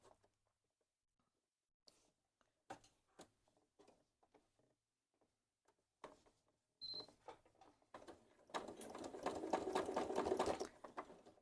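A sewing machine stitches the outline on a quilted Christmas stocking, starting with a few scattered clicks and short bursts and building into a steady, close, rapid whir near the end.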